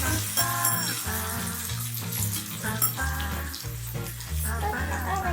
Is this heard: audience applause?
no